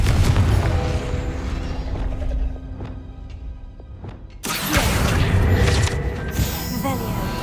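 A fiery Confringo spell from Hogwarts Legacy lands with a sudden booming blast that holds a loud, crackling roar for several seconds, after a stretch of quieter game sounds and clicks.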